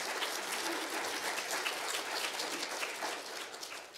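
A conference audience at iPres 2022 applauds a runner-up for the Best Paper Prize, steady, moderately quiet clapping from many hands, evenly sustained throughout.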